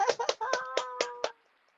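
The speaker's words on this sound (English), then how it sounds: "let's give you a clap." About six sharp hand claps come in a quick, fairly even rhythm, close and fairly quiet, then stop and leave near silence.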